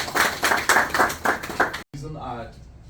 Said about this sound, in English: we must be able to applaud yourself and applaud Mr. Takam